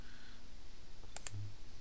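Two quick mouse clicks in close succession while typing on Windows Vista's on-screen keyboard, quiet and crisp against low background hum.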